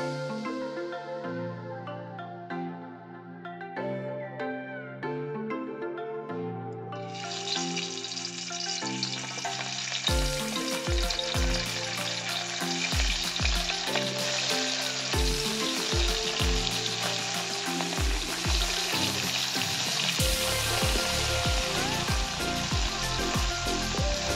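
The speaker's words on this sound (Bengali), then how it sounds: "মাছগুলোকে কিন্তু খুব সুন্দর করে এক পাশ ভেজে নিয়েছি" Steady, loud sizzling of small sea fish frying in mustard oil in a pan, building to an intense crackle with occasional stirring clatter, over soft background music.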